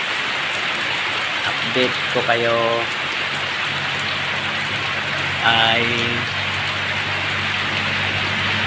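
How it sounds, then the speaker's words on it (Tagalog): Heavy rain pours in a steady, loud hiss, with a vehicle horn sounding twice over the downpour and a voice speaking briefly. "lakas ng ulan"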